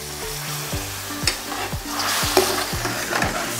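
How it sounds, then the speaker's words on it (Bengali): Clay pot chicken stirred in a pan after milk is poured in, with a spoon scraping in a steady, regular rhythm over a soft, continuous sizzle, close and moderately loud, no voices. "দিয়ে খুব ভালো করে নেড়ে মিশিয়ে নিতে হবে।"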